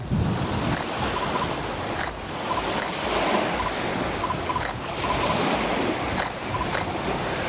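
Ocean surf rolling onto a beach at sunset, a steady broad wash of waves with wind, continuous and fairly loud, without talk.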